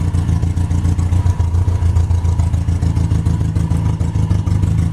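The engine of a 1967 Triumph Spitfire, revived from a junkyard after a cold start, idles with a rough, low, pulsing chug and a faint mechanical clatter, close and steady with no talk.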